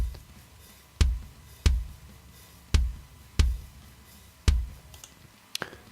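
Six punchy kick drum hits from a metal drum recording at an uneven, moderate pace, with faint cymbal and snare bleed ringing quietly underneath.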